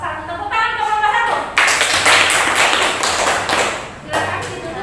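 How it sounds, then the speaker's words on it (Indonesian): Classroom audience applauding a student group after a presentation, a burst of hand claps starting partway through and continuing as a dense, fairly close patter, with a voice speaking before it begins. "Tepuk tangan ke kelompok 1"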